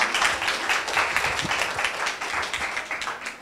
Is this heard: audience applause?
yes